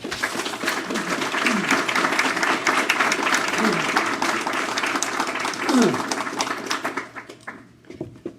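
Audience applause greets author Brad Gooch at an art event, a dense, steady clapping that fills the room for several seconds before thinning out near the end, with a few voices murmuring underneath.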